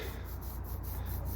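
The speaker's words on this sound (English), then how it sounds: "Here we have Emma, roll her in the coach lines." Paint roller rolling over the coach lines on a narrowboat, a steady soft rubbing hiss heard close up with a faint regular rhythm from repeated strokes.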